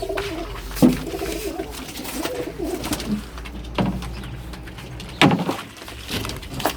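Pigeons coo nearby on a balcony in low, repeated calls, with a few sharp thumps and rustles scattered between them.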